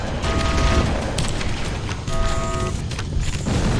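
A fusion reactor blows up in Halo: Combat Evolved, a dense wall of rumbling booms and crackling blasts that roll on without a break, loud and close, with a tonal hum rising briefly through the roar.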